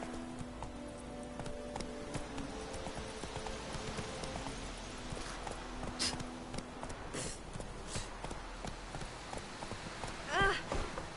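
In The Witcher 3, a horse's hooves clip-clop in a steady rhythm at moderate level, with a brief whinny near the end and a low background hum.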